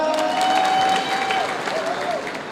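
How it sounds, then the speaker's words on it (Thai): A crowd applauds steadily at a formal gathering, with dense, close clapping that stays loud throughout, a thin whistle-like tone running beneath it. "ขอเสียงปรบมือนะครับ"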